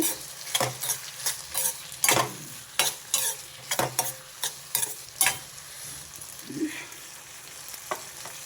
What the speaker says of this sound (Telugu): టమాటా వేస్తా అండి ఇంకొంచెం మగ్గనిస్తా కొంచెం గళ్ళుప్పు వేస్తున్నా తొందరగా మగ్గిపోద్ది